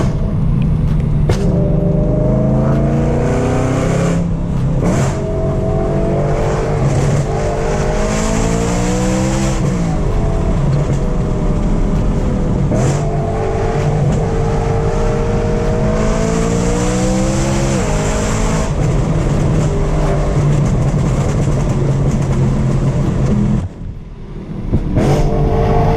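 BMW E92 M3 making hard acceleration pulls up a canyon road: a loud, close engine rising through the revs in repeated climbing sweeps with gear changes, a brief sharp cutoff near the end, no talking.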